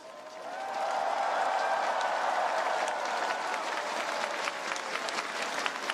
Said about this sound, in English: let's thank all our performers and participants today with this huge round of applause